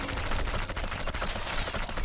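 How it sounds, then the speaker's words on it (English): Heavy automatic gunfire pours from a gun emplacement in Sniper Elite 4, a dense, continuous burst of rapid shots that stays loud and unbroken for the whole stretch. "Some major gunfire."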